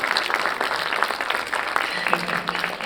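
A conference panel audience gives a short, dense burst of applause, a steady wash of clapping that stays fairly even before a voice briefly cuts in near the end.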